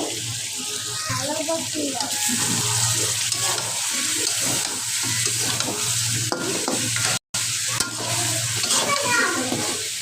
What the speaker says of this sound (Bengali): দিয়ে দিলাম অল্প করে টমেটোর সস এখন ভালোভাবে একটু নেড়ে নিব